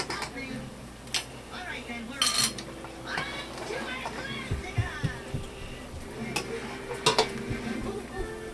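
A pasta spoon scrapes and clinks against a cooking pot while serving pasta for shrimp scampi in white wine sauce, scattered metallic knocks under ongoing talk with faint household and child sounds in the background.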